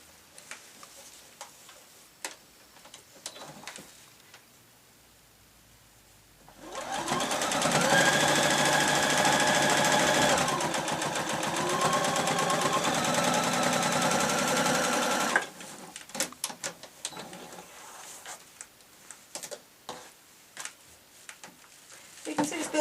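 A sewing machine runs steadily for about nine seconds, stitching lace over a seam on a shabby chic fabric tablet case, set between quieter stretches of handling noise.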